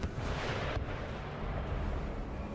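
Artillery fires in the Napoleon Total War battle game, a dense, continuous booming rumble of distant cannon shots with a sharper burst near the start.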